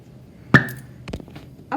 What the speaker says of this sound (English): And hydrogen, whenever it's near fire, it creates that sound.